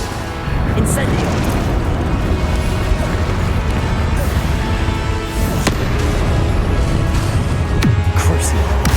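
Incendio fire spell cast in Hogwarts Legacy, a loud sustained roaring, crackling blast of flame with crashing bursts over a dense rumble, close and continuous, with a voice speaking over it.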